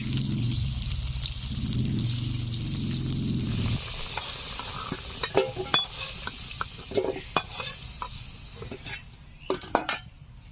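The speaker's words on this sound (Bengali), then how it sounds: "তেল গরম হয়ে গেছে, আলু ভেজে নেব।" Potatoes fry in hot oil in a Bengali home kitchen, a steady bubbling sizzle for the first few seconds, then quieter frying broken by sharp clinks and scrapes of a utensil against the pan.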